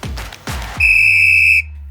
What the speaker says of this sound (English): When you hear the whistle,